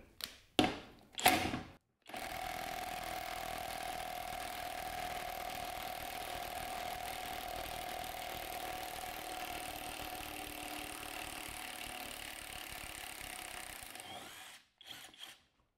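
A Skil 1/2 inch impact wrench rated at 800 ft-lbs runs in reverse in regular mode. A few short bursts are followed by a steady whirring free-spin of about twelve seconds, close and fairly quiet.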